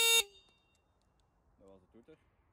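A single short, loud electric horn blast from a Kaabo Wolf Warrior II off-road electric scooter, a moped-style horn, sounds at the start and cuts off quickly, followed by quiet and a voice speaking briefly.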